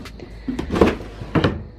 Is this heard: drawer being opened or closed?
yes